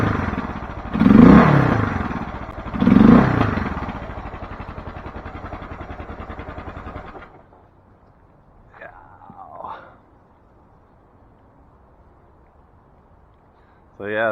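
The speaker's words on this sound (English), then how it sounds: "We'll see if I can start it. First kick. Yeah, listen to that." A 1993 Suzuki DR650 motorcycle is kick-started, its engine catching and running in a loud, steady throb for several seconds before dropping away, followed by quieter, brief sounds.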